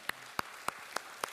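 Sparse, slow claps in a church worship service, five sharp distinct hand claps at an even, unhurried rhythm, fairly quiet and close with nothing else around them.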